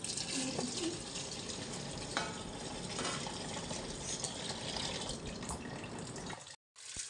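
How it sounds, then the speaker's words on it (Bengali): Tap water running steadily over freshly boiled momos to rinse and cool them, a continuous close splashing stream that stops briefly near the end before resuming. "জল দিয়ে ধুয়ে আমি এগুলোকে ঠান্ডা করে নিচ্ছি।"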